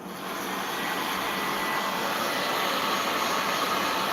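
A small handheld blow dryer runs continuously close to the microphone while drying chalk paint on wood, a steady, loud whooshing whine that starts up and holds constant, without any talking.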